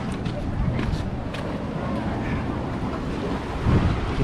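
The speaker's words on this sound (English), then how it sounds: "Hear the water under the rocks." Water washing and sloshing beneath rocks at St. Andrews State Park on Panama City Beach, a steady close churn of surf under constant wind rumble against the microphone, swelling louder near the end.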